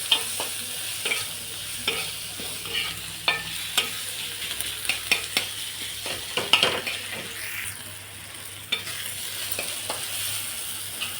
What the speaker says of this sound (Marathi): गुलाबी कलरपर्यंत कांदा फ्राय करून घेऊ